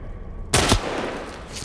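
Gunfire from The Last of Us Part I breaks out after a half-second lull: a sudden loud burst of shots, then sustained crackling fire and noise that keeps going.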